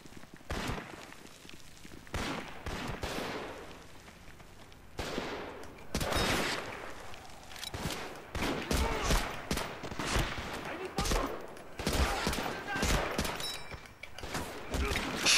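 Gunfire in the GameCube shooter Medal of Honor: Rising Sun, with scattered shots and bursts, some sharp and close, others duller and farther off, amid noisy battlefield ambience with voices in the background.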